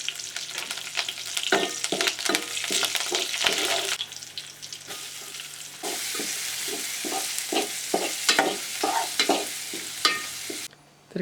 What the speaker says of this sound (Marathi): हे लसूण टाकतोय. हे कढीपत्ता, हा कांदा, हा लसूण, खेकड्यांच्या कालवणाला फोडणीची दिली.